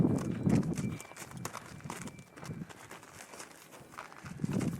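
A horse moves on the ground during groundwork training, its hooves thudding in irregular clip-clop steps at close range, with quieter gaps between bursts and faint background noise.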